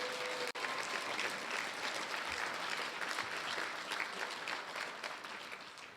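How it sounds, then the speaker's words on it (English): Steady applause from a crowd at a celebration event fills the room for the full stretch after a brief sharp knock near the start, holding even and fairly loud before easing slightly at the end. "please give them a round of applause"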